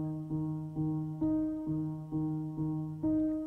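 A single note triggered in Scaler 2 unfolds into a trap-style melodic expression: seven plucked synth notes in a steady rhythm, each with a sharp attack and decaying tail, clean and fairly quiet with no voices.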